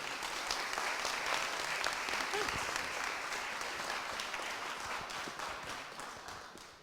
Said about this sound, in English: Let's give Professor Chambliss a warm round of applause.